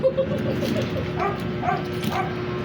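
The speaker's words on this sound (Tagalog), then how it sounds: "May tahol pa ng aso." A dog barks a few times in quick succession at moderate distance, with a low murmur of voices in the background.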